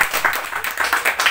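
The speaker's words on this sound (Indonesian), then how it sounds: "Beri tepuk tangan yang terbaik buat Tuhan." An audience at a theological college graduation thanksgiving service claps for God, a brief dense patter of many hands at a fairly steady pace, close and moderately loud, with no talk over it.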